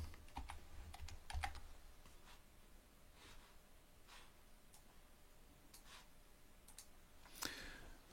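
Quiet, irregular keystrokes tap on a computer keyboard in bursts of clicks, with a louder clatter near the end, while text is typed for an interactive book project.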